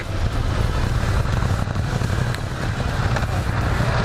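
Ducati motorcycle ridden on a road test day, a steady loud engine drone mixed with wind rush as heard from the rider's position, continuous with no clear gear changes.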